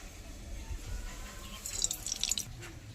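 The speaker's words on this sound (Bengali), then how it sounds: "এবার কড়াইতে আমি সরষের তেল দিয়ে দেবো" Mustard oil poured into a freshly washed wok, a soft trickling, dripping liquid sound with a few brighter splashes late on, close and fairly quiet, with no talk.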